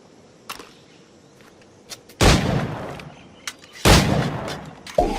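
Gunfire at targets in Assassin's Creed Black Flag: two loud, booming shots with long rumbling tails, interspersed with a few lighter, sharper pops and a soft background hum.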